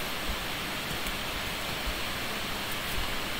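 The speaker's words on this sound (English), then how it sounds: "just 3 oscillators all with white noise on, and using a filter to sort of sweep it in" A steady wash of broadband hiss from three synthesizer oscillators set to white noise, swept with a filter, holding at an even, fairly loud level throughout with no talking.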